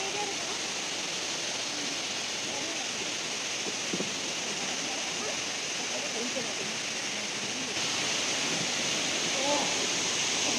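Waterfall at Badaghagara in Keonjhar, a steady broadband rush of falling water that fills the whole clip at an even level, with a few faint voices beneath it.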